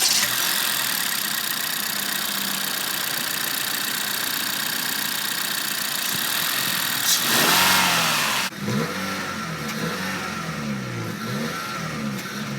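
A 2018 Honda Fit with a 1.5-liter four-cylinder engine runs at a loud, steady hum close to the exhaust, rising in a brief surge before settling back to a rougher idle.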